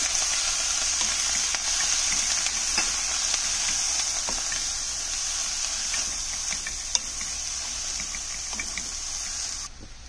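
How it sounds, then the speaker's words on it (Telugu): Cabbage frying in oil in a pan gives a steady, close sizzle, with faint scrapes and clicks from stirring running throughout. "ఒకసారి అంతా ఆయిల్ అంతా క్యాబేజీకి పట్టేలాగా కలుపుకొని"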